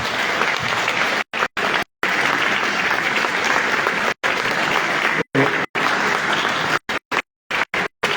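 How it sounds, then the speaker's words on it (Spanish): Loud, dense applause from an audience at an open talk in a salon in Piriápolis, continuous clapping cut by several abrupt brief gaps. "Ese es un aplauso a todos ustedes."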